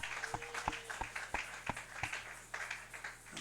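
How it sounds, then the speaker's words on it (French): A church congregation claps in steady rhythm, at about three claps per second, heard faint and distant over a wash of room noise. "Acclamez, acclamez."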